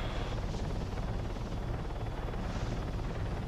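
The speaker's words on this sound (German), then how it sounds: "Helikopter kommt." AH-9 Pawnee light helicopter in the Arma 3 video game flying nearby, a steady dense rotor and turbine roar that holds constant and loud throughout with no talk.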